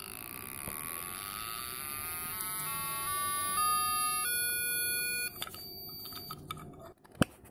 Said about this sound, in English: notice how the siren starts up much quicker